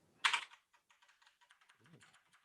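Fingers tapping on a computer keyboard during a data-relay broadcast demo, a quick run of light, evenly spaced clicks close by after one louder clack at the start, with no talking.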